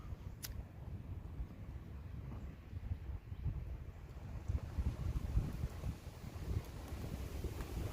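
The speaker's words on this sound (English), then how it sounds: "the wind's up, especially being high up on this hill" Wind rushes steadily across a hilltop in a park, a low continuous buffeting that swells slightly and stays fairly loud throughout, with no voices.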